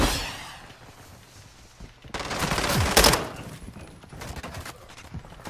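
Rapid bursts of automatic gunfire in Modern Warfare II, loud and close, with a dense volley midway and lighter shots trailing off.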